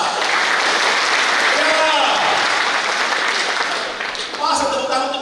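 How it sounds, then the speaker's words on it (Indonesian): An audience at a church retreat session claps in a dense, loud burst of applause, with a voice speaking briefly over the clapping. "Tepuk tangan jelas."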